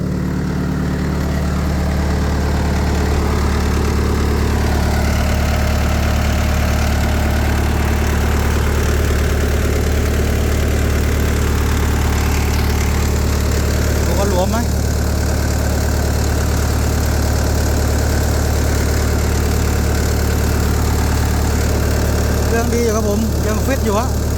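The engine of a Hitachi 135US excavator idles with a steady low rumble and faint knocking throughout, while people talk close by.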